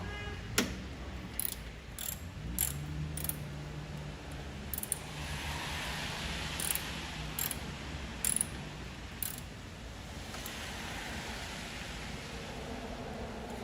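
Mechanical ratchet clicks from tightening a bolt while fitting a power frunk foot sensor on a Tesla Model 3, several sharp ticks at irregular intervals over a steady background hiss, no talking.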